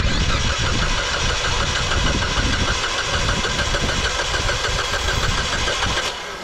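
A Ford Fiesta with an overheating and no-start fault cranks steadily without catching, a loud continuous rhythmic churning of the starter that cuts off near the end.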